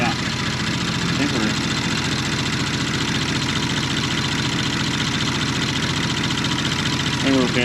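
A 2017-onward Audi B9 S4 idles after a new downpipe install, a steady, close mechanical rumble with a fast, regular pulse and no exhaust leak ticking, and someone speaks faintly over it.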